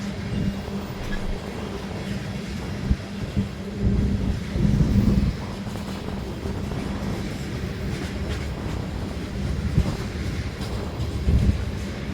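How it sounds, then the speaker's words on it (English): A Union Pacific ES-44 locomotive working as a distributed-power unit rolls past in Fostoria, Ohio, a heavy, continuous low rumble with occasional clanks and rail clatter, loud and close throughout. "Here comes a DPU, well, as mentioned earlier, ES-44 from Union Pacific."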